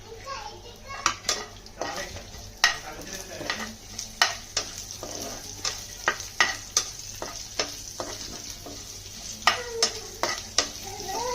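Garlic and curry leaves sizzle in a small amount of hot oil while a metal spoon stirs and knocks against the pan in steady repeated scrapes and clinks.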